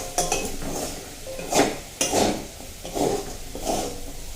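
Potatoes fry in a pan and are stirred with a utensil. Close, rhythmic scraping bursts repeat about every half second to a second over a soft background sizzle.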